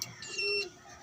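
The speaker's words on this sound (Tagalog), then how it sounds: "Ayun guys, nag-buzzer." A short electronic beep from a continuity tester checking a spin dryer, a brief steady buzzer tone lasting a fraction of a second, clear and close.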